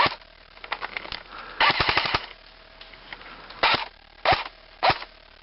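An airsoft gun fitted with a UTG tactical light fires BBs in quick bursts, with several sharp rattling volleys separated by short pauses, close and crisp.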